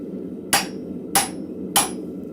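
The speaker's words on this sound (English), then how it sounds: "I'm just back punching this now" A hammer strikes hot steel at a blacksmith forge while back punching a shelf bracket with hooks: three sharp, ringing blows about half a second apart, loud and close over a low forge hum, with no talking.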